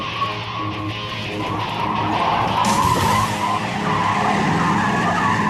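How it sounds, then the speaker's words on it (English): A car driven too fast through a slalom course oversteers, its tires squealing and skidding loudly and continuously over the steady roar of the engine. "we skip Mike ahead to the slalom, where he goes too fast and badly oversteers"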